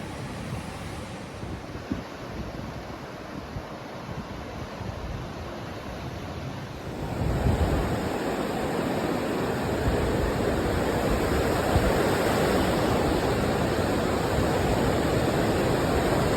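Ocean waves wash onto a beach in the Gili Islands, Indonesia, as a steady, broad roar of surf mixed with wind noise. The sound swells noticeably louder partway through and then holds.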